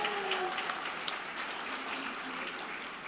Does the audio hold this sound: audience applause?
yes